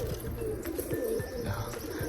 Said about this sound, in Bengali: এই যে আমার বাড়ির খুব সুন্দর একটা বাজির পায়রা